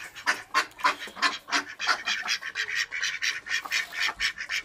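Ducks in a backyard pen quack repeatedly in a busy, overlapping chorus of nasal calls, fairly close and moderately loud, with no talking.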